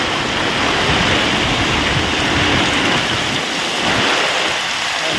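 Downpour with strong wind in a Botad village, a continuous hissing wash of heavy rain, loud and close, with the low rumble thinning slightly near the end.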